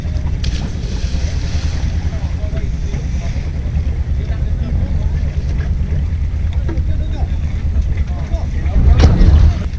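Engine of a fishing-purchase boat at Phú Quý island, a steady low drone under wind buffeting the microphone and sea wash, with a brief louder thump near the end.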